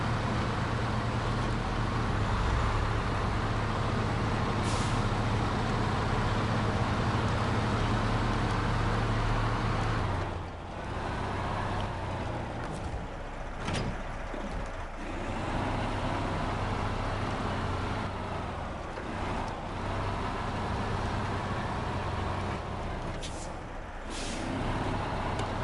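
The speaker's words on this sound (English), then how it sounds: "Got a bit of a nicer engine sound as well." Truck engine in the video game SnowRunner, a steady low diesel drone with a brief hiss like an air brake, continuous and fairly loud with a short dip midway, no voices over it.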